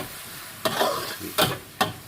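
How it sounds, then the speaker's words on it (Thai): Pieces of pork stir-fry with holy basil, garlic and chili in a hot pan over a continuous low sizzle. Three sharp scrapes of a spatula stand out against it, each followed by a brief surge of frying. "คั่วหมูให้สุก ผัดหมูให้สุก"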